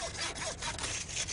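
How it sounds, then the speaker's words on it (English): A bison bone being sawn apart, a steady rasping scrape running throughout, close and fairly quiet, with no talk. "By sawing apart one of its bones, they can examine the condition of the marrow."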